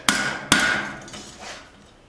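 Two sharp hammer blows strike a fillet knife blade being forged on an anvil, each with a bright ringing tail, followed by a couple of fainter taps.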